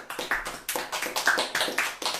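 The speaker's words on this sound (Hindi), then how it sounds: "हम जोरदार ताली भाई रोनी के लिए।" A church congregation gives a short burst of vigorous applause, about a dozen quick, sharp claps ringing out close and loud with no voices over them.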